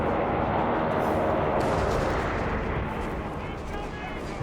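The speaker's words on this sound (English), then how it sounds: "Heavy mortar fire around here." Heavy mortar and artillery fire in the strategy game Company of Heroes 3, forming a loud continuous barrage of booms and crackling gunfire that fades slightly toward the end, with commentary voices mixed underneath.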